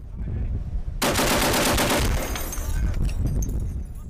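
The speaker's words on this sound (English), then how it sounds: "Crews also fire the M240B light machine gun from the JLTV turrets." An M240B 7.62 mm light machine gun fires from a JLTV turret, a loud burst of rapid sharp reports that rings out and decays with echoing rumble, heard close over a background of low noise.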